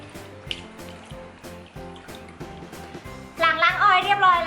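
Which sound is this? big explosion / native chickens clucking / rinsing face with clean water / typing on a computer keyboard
rinsing face with clean water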